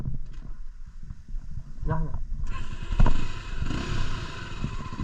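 Motorcycle engine running steadily as the bike rides a rocky road near Hulangala, Matale, Sri Lanka, with rough clattering bumps and a louder jolt partway through.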